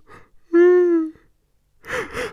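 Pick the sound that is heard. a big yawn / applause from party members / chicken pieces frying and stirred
a big yawn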